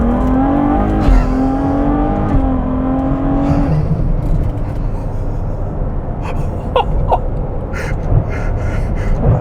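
Ferrari 812 Superfast V12 accelerating hard on an open road, its engine note climbing steadily in pitch and then settling into a loud roar with wind and road noise, heard from inside the car.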